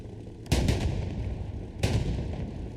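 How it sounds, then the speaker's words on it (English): A Panzer IV tank in Hell Let Loose taking a hit to the hull, heard as two heavy, booming impacts about a second apart, each with a rumbling tail, with no voices. "Panzer IV takes a hit to the hull there"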